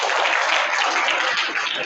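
Students clapping in a school classroom after a correct quiz answer, dense steady applause from a group, moderately loud and continuous for about two seconds.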